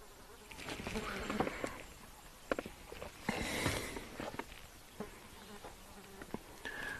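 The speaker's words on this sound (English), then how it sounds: "I see a fly buzzing around the web" A fly buzzes around a spider web outdoors on a wildlife safari, a faint, wavering hum that drifts near and away over steady rustling background noise, with a few soft footstep-like taps.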